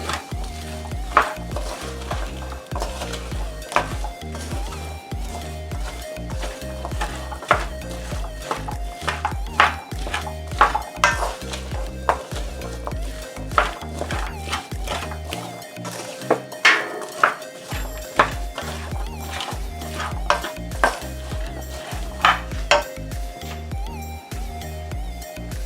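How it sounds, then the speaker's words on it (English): Curried potatoes and squash, cooked Jamaican style, are stirred in a pot, with a spoon clinking and scraping against the metal again and again over a steady sizzle for the whole stretch. "Stir them up"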